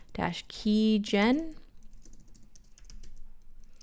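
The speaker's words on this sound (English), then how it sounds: "in my terminal window here, I'm going to type SSH-keygen" Keys tap on a computer keyboard while a command is entered in a terminal, soft scattered clicks following a brief spoken phrase at the start.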